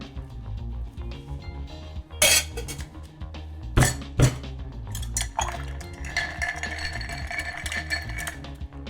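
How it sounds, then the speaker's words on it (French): Ice shaken in a glass mixing vessel for a Vesper cocktail, with sharp clinks and rattles in irregular bursts followed by a sustained rapid rattling, close and moderately loud. "On va rajouter la glace et on va secouer tout ça."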